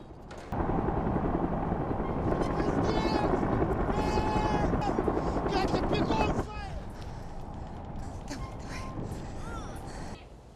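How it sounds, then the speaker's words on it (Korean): Loud rotor thumping of a helicopter dominates, then drops to a quieter, more distant level partway through, with voices and shouting underneath. "그때 들리는 헬기 소리."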